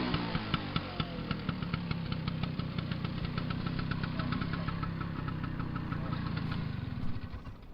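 A vehicle engine idles steadily at close range, its low rumble carrying regular knocking pulses throughout, with no talk over it.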